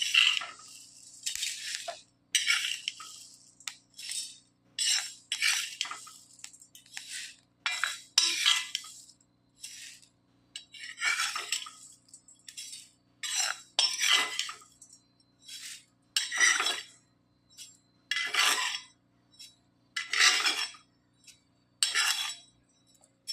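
Roasted fenugreek seeds rattle and clink into a metal vessel in repeated short bursts, a crisp scraping pour with brief pauses between each tip.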